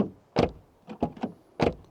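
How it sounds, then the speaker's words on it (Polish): Doors on a 2017 Citroën C4 Grand Picasso BlueHDI 150 close and open in a series of sharp, close thuds and clunks, one strong hit, a quick cluster of three lighter knocks, then another solid shut. "dźwięk zamykania i otwierania drzwi."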